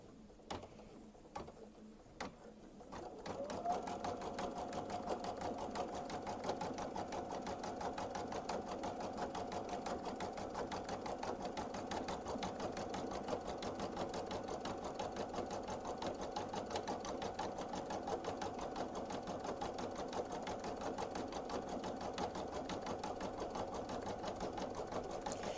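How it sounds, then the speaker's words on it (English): Embroidery machine stitching yarn with a couching foot, a few isolated clicks and then a fast, steady mechanical whirring rattle that runs evenly for over twenty seconds, close and alone. "the machine, no matter if I have this set at 1050 stitches per minute, because we have the yarn couching foot on"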